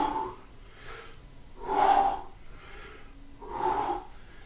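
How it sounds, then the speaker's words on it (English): Exaggerated breathing during a stretch: three slow, deliberate breaths, each a long audible exhale rising and fading, close to the listener with quiet pauses between. "I just breathe"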